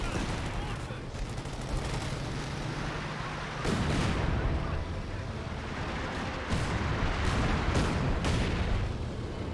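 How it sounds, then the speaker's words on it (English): An artillery barrage in the video game Company of Heroes 2 sounds as dense rumbling gunfire and booming impacts, with several sharp heavier blasts standing out through a continuous roar. "now got the artillery barrage in this region"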